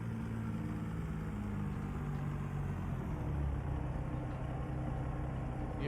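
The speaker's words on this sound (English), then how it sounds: "I have a nice Peterbilt and the engine sound is so annoying" A Peterbilt truck engine idles in American Truck Simulator, a steady low rumble with a faint high whine, even and unbroken throughout with no talk.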